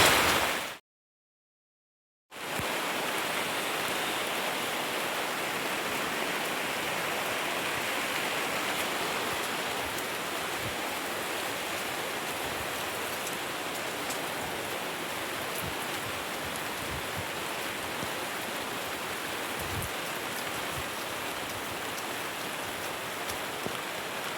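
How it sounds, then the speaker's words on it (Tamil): Steady, heavy rain pours as a dense, loud hiss that barely varies, briefly cut by a short gap near the start and then continuing unbroken and close. "சரியான மழை வருது"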